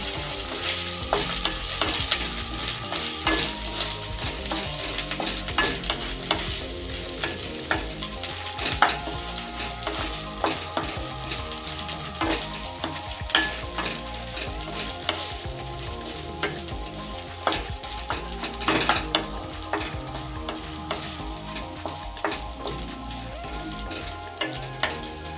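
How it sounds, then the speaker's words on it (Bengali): Ginger-garlic paste frying with fish in a pan for a spicy Bengali fish curry, a steady close sizzle with scraping stir strokes throughout and no talking. "এবার এতে আদা রসুন বাটা দেবো"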